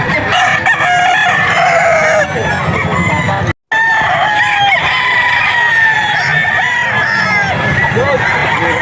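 Roosters crow loudly and repeatedly at the Bocaue pet market, with long overlapping calls and some clucking. People talk in the background, and the sound cuts out for a brief moment midway.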